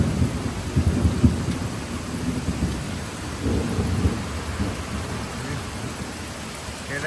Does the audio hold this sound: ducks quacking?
no